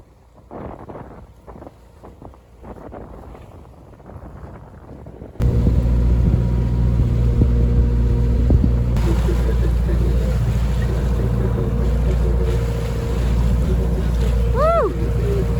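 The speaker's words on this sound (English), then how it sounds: "So we've got the Genera up and we're doing about 6 knots" Sailboat under genoa making about 6 knots off Catalina, wind rushing past the microphone with water and hull noise; quieter start, then a sudden loud, steady roar of wind and waves from about five seconds on.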